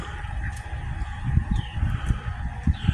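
Chickens clucking and squawking in short bursts as ducks chase them, amid a busy low rumble of farmyard activity, with a few higher bird calls overhead.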